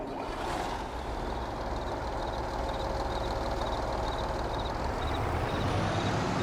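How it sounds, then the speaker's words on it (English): A big ex-army truck drives in the Farming Simulator 22 game, its engine giving a steady, loud, dense rumble with broadband road and mechanical noise that holds constant throughout, with no talking. "Okay, got our nice big ex-army truck."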